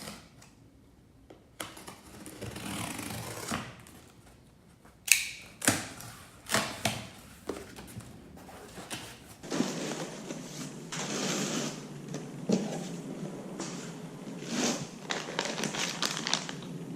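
Packaging for motorcycle crash bar engine guards, meant for a 2018 BMW R1200 GSA, is handled close up with scattered crinkles, taps and rustles, quiet at first and then busier.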